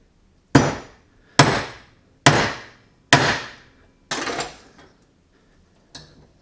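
Five sharp metallic hammer blows crushing a soldered wire joint at a steady, even pace, then one fainter strike after a pause; close and ringing briefly.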